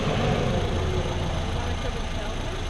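A Nissan Sentra engine idles after a fuel pump replacement, following a rough-idle, no-power fault. It gives a steady, close, loud rumble that runs unbroken through the whole stretch.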